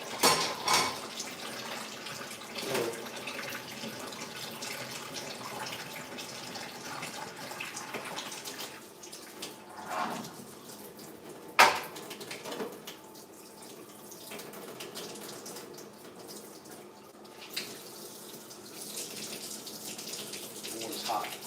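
Water runs from a kitchen tap in a home on Thanksgiving Day, a soft steady splash with occasional clinks and knocks of dishes, continuing for a long stretch at moderate distance.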